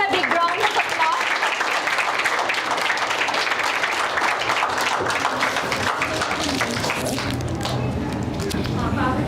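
An audience claps steadily through a formal event honoring an IPS officer in Telangana, a dense even applause that holds at the same level from start to finish.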